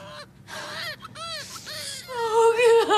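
A newborn premature baby boy cries in repeated rising and falling wails, close and loud, with whimpering breaks between bursts that grow stronger toward the end.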